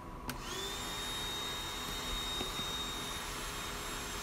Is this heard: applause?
no